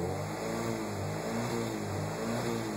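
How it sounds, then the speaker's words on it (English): A stationary Alfa Romeo 75 Twin Spark engine with Motronic 4.1 holds high revs against a 30 ms soft rev limiter set near 3080 rpm. It gives a loud, steady drone broken by rapid, rhythmic cuts. "see it's cutting every 30 milliseconds. It's cutting in at 3080 RPM and then resetting"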